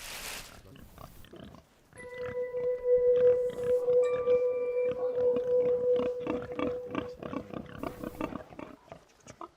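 Iberian pigs grunting and snuffling on a farm, a dense run of close, overlapping grunts with a sustained tonal squeal through the middle, fairly loud throughout.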